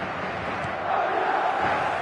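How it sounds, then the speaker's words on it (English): A large football stadium crowd gives a dense, steady roar that swells slightly in applause at a good passage of play, heard loud and continuous throughout. "Crowd appreciates good football all round there."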